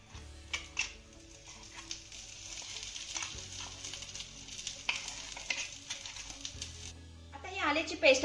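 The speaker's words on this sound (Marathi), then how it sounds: "ही पेस्ट आपल्याला दोन ते तीन मिनटं चांगली परतून घ्यायची आहे" Ginger paste frying in ghee in a pan, a steady soft sizzle with occasional stirring scrapes, continuous and close, with a brief burst of clattering near the end.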